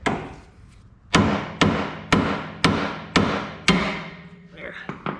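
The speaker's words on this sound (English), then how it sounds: "smack it with a hammer and see if it'll pop it out" Six heavy, evenly spaced hammer blows ring out on a metal CV axle castle nut, each with a short ringing decay, followed by a few lighter taps.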